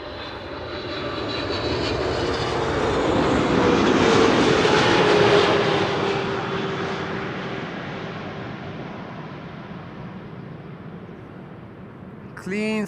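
KLM wide-body jet airliner at Amsterdam Schiphol Airport with clean flaps, its engines roaring loud and close as it passes, swelling to a peak and then fading into a steady broad rumble, with a brief voice at the very end.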